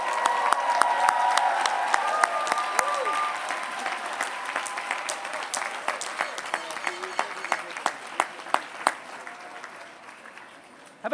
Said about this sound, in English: One more round of applause, please, for our Peabody Society graduates.